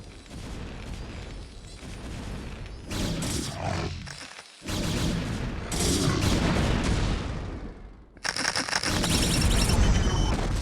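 Siege tank cannon blasts in StarCraft, a run of heavy booming shots and explosive rumble rolling through a loud battle, with brief lulls between volleys.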